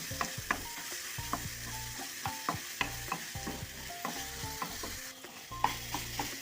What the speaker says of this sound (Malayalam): അരിഞ്ഞു വെച്ചേക്കുന്ന പഴം ഇട്ട് കൊടുക്കാം എന്നിട്ട് നല്ലതുപോലെ ഒന്ന് വഴറ്റിയെടുക്കാം